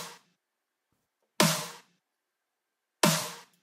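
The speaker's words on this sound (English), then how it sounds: "3 layers, and this snare sounds like this." A big layered snare from an electronic track, three punchy hits spaced evenly apart with bright noisy cracks and short decaying tails, loud and alone with silence between.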